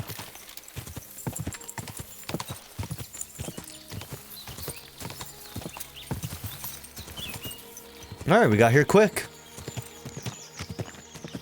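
Horse hooves clip-clop in a steady rhythm through the video game Kingdom Come: Deliverance II, close and moderately loud, with a brief louder burst near the end that could be a neigh; someone speaks over the hoofbeats.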